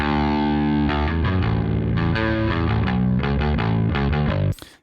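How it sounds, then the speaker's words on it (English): A gritty, saturated bass amp plays a short riff with thick, distorted low notes, loud and sustained, cutting off abruptly at the end. "We've already got a pretty saturated bass amp sound that we recorded while tracking this song."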